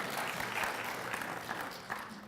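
A lecture hall audience at a university research lecture claps together, a dense, steady burst of applause that holds evenly for a couple of seconds without voices.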